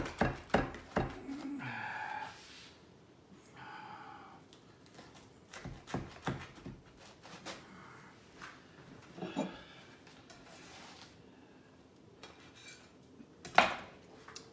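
A knife cuts through a thin-crust pizza topped with prosciutto, arugula and mozzarella, producing scattered crisp crunches and metallic scrapes on a plate, with quiet gaps between the cuts.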